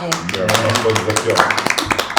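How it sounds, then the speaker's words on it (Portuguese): Hand clapping during a podcast conversation, a quick run of close, sharp claps mixed in with people talking. "Vou aplaudir você."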